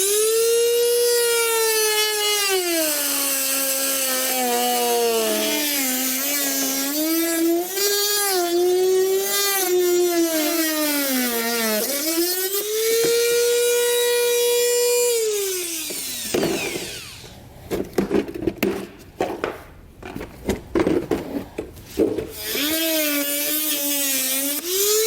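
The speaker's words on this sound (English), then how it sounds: "I'm going to use a Dremel tool to do this." A Dremel rotary tool cuts out a trim panel on a 2022 Toyota Highlander. Its loud, high-pitched whine rises and falls for a long stretch, then gives way to choppy, gritty cutting bursts as the tool bites into the plastic.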